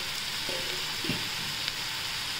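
Cauliflower and peas stir-fried in a pan, a soft continuous sizzle with a couple of brief scraping stirs of a spoon, close and fairly quiet with no talk.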